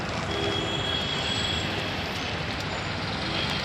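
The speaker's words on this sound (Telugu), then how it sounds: "ఇదే మెట్రో" A Delhi metro train at the airport Terminal 1 station rolls past with a continuous, loud rumbling roar and faint high squeals from the wheels, steady throughout with no talking.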